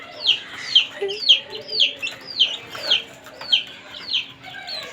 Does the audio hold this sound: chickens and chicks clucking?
yes